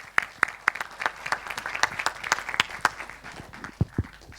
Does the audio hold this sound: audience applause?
yes